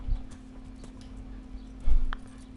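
Horse hooves clip-clop in the video game Kingdom Come Deliverance, giving two distinct heavy thuds about two seconds apart over a low steady background hum.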